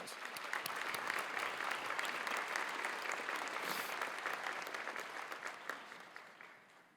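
Guests at a sports hall of fame luncheon give a warm round of applause, steady many-handed clapping that builds quickly, holds evenly, then tapers off toward the end, heard from a moderate distance and fairly soft.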